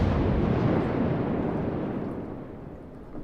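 A deep, rumbling naval gun blast in World of Warships from the cruiser Saint-Louis fighting a Cleveland, one heavy boom that fades slowly into a long low roar, with no voices.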